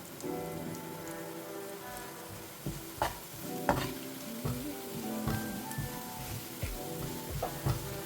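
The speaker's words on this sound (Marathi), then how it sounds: "लसूण आपला फ्राय व्हायला आला आहे. तर आता ह्यामध्येच मी थोडासा जिरा घालून घेते" Garlic, cumin and two red chillies crackling in a hot-oil tempering, with a dense close sizzle broken by sharp scraping stirs and pops, no voices.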